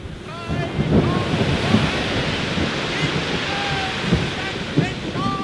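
Waves roll in and wash up on a beach, a steady, continuous surf roar with gusting wind across the microphone and periodic swells of breaking water.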